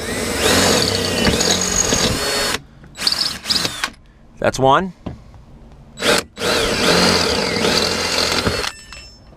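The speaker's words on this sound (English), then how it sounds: "I'm gonna hit this with the drill." A loud power drill whirs in long bursts while drilling out bolts on a Jeep Wrangler JK, stopping and restarting several times, with a brief spoken remark in one of the pauses.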